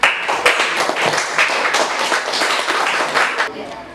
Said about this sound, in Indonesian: berikan aplaus dulu untuk temannya